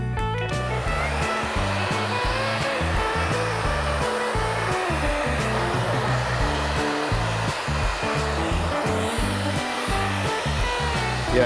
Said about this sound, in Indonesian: sekarang kita akan keringkan dengan hair dryer